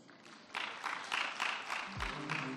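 An audience at the AITEX 2017 event bursts into applause, the clapping starting abruptly after a quiet moment and continuing thick and sustained, with a brief low thump near the end.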